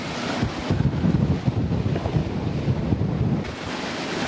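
Strong 20 to 22 knot wind gusts across the microphone as waves wash and surge against a reefed sailboat crossing from Tunisia to Malta; continuous, loud and close, with no voices.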